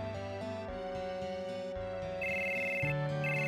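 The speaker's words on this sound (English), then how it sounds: "Get a phone call is what we're gonna do." An electronic phone ringtone from the video game Final Fantasy VII plays a bright, repeating melodic pattern of clear tones, steady and fairly loud, with no voices.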